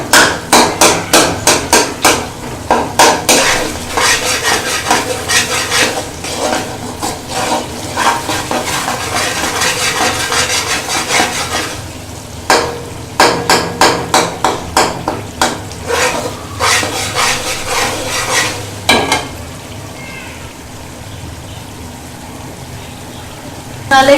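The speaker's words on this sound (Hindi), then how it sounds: "अब हम मसाले की भुनाई करेंगे थोड़ी देर इसकी" Spices roast in a pot for Hyderabadi daal as a spoon scrapes and knocks against the metal in quick repeated clatters, with gaps between bursts and a steady sizzle underneath.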